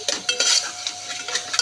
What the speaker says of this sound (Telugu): ఇప్పుడు రెండింటిని కొద్దిగా ఆయిల్లో ఫ్రై అవ్వాలి.